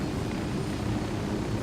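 Helicopter in the video game Ghost Recon Wildlands: a steady, low rotor and engine drone that holds evenly and fairly loud throughout, with no talk.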